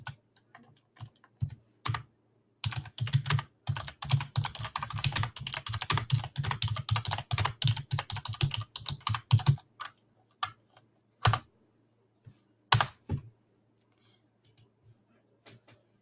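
Someone types a reply on a computer keyboard, close and quiet, starting with scattered taps, building to a steady run of rapid keystrokes, then tapering to a few isolated clicks.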